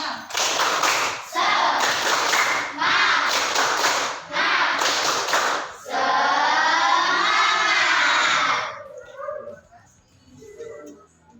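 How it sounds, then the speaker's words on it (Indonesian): Students in a classroom chant and clap out a rhythmic spirited cheer, loud bursts of group clapping and voices in repeated phrases, ending in a sustained shout that fades. "tepuk semangat dulu, tepuk semangat."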